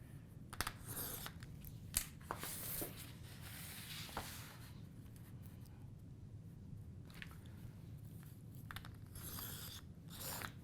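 A Template Studio scoring board is used to score lines on card for a gift box, producing faint intermittent scraping, clicks and soft ratcheting sounds spread across the stretch, quiet and close.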